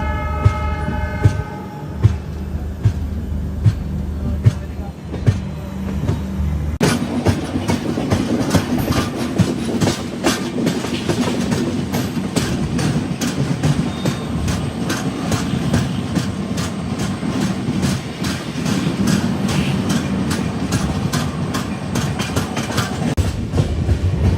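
A Secunderabad to Goa train rumbles along the tracks with rhythmic clicking of wheels over rail joints, a loud steady roar after a brief horn-like tone at the start.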